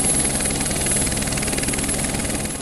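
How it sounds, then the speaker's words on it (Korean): Two helicopters in an anime fantasy scene give a steady, loud rotor and engine roar that fills the whole moment without any talk. "하늘에 두 대의 헬리콥터가 나타나며"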